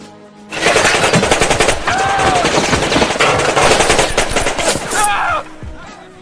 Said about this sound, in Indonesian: seorang penjaga menggunakan senjata amatiran, hingga peluru itu muncrat bebas